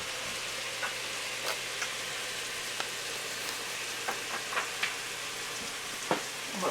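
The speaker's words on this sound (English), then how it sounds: "while this here's kind of sauteing for a minute" Chicken and vegetables for a couscous soup sizzle steadily in a pot, with a constant frying hiss and a few faint clicks and stirs. No one speaks.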